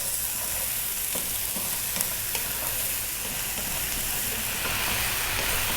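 Garlic chicken sizzles and crackles in a hot pan with no oil, a dense continuous frying hiss with occasional scrapes of stirring, close and loud throughout.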